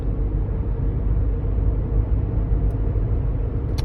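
A Toyota RAV4 cruising around 45 miles an hour fills its cabin with a constant low rumble and growl of road noise, steady and droning without any voices.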